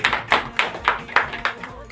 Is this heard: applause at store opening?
yes